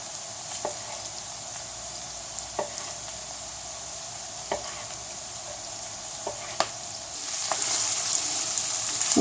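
A sausage, bacon and vegetable mixture fries in a pan with a steady low sizzle, broken by occasional scrapes and taps of a stirring utensil, the frying growing a little louder and brighter toward the end.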